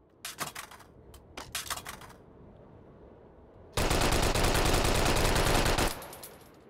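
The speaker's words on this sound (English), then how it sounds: "Let's do a couple more shots here." Viper gun firing in the VR game Hot Dogs, Horseshoes & Hand Grenades: several sharp single shots and short bursts, then a loud sustained full-auto burst lasting about two seconds before stopping.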